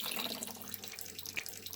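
Water runs and trickles steadily out of a PC liquid-cooling loop as it is drained after leaky fittings, a soft, continuous splashing with a few faint drips, fairly quiet and close.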